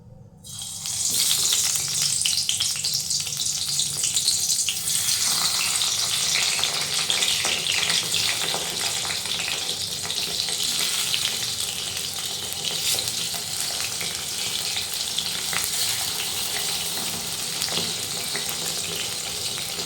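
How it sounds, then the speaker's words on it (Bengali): Eggplant pieces dropped into hot oil burst into a loud, bright sizzle after a brief silence. The frying crackles continuously and close by, settling slightly while bubbling on. "এবার বেগুনগুলো তেলে দিয়ে দেবো।"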